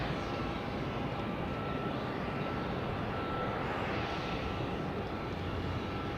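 Airplanes at Logan airport in Boston, mostly private jets and commuter aircraft, produce a steady, broad engine roar that holds at moderate loudness throughout without any speech.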